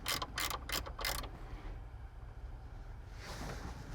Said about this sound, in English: You need a 10mm wrench. We loosen up the battery ground.